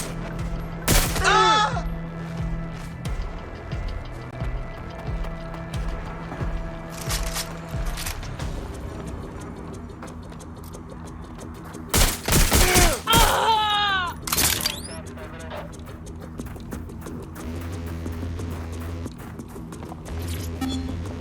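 Bursts of gunfire in Watch Dogs Legion, with a loud volley near the start and a denser, heavier salvo around the middle over a low rumbling game soundscape with scattered thuds.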